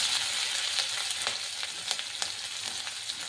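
Green chilli and chopped ginger fry in oil in a wok, a close, continuous sizzle broken by crisp crackles and pops, with no voices.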